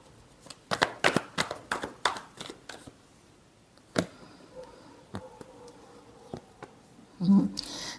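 Tarot cards shuffled by hand during a reading, a rapid burst of crisp riffling snaps followed by a few sparser card flicks and a soft shuffle, with a voice speaking nearby.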